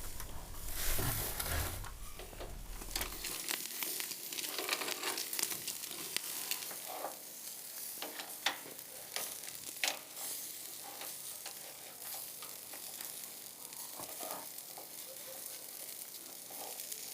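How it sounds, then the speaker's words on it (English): Chicken sizzling on a grill at a family cookout, with a steady close crackle and hiss of frying fat continuing throughout, with no talk over it. "The chicken on the grill sizzles and turns golden."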